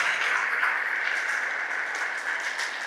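Congregation clapping in a church, a dense, steady wash of applause holding at even loudness throughout with no voices over it.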